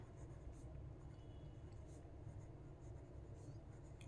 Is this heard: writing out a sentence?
yes